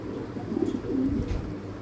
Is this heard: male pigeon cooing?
yes